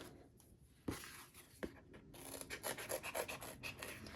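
Scissors cut through thick craft foam, starting with a couple of isolated snips and then settling into a steady run of close, rasping cuts, with no talking.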